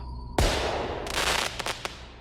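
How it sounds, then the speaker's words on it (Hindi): A single sharp, loud blast of a firework going off nearby, followed by a few crackling pops as it fades. "एक बहुत ही जोर के धमाके की आवाज आई"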